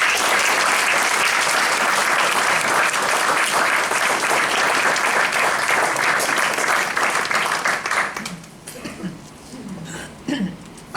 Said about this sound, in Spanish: Quiero pedir para todos un fuerte aplauso.